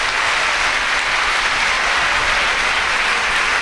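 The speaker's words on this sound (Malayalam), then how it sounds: "കരങ്ങൾ ഉയർത്തി കൈയടിച്ച്" Church congregation at a worship service clapping with hands raised, a loud, dense and unbroken wash of applause sustained evenly from start to end.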